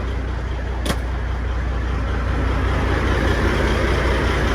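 A truck engine runs steadily at close range, a continuous low rumbling drone with a brief sharp click near the start, no voices over it.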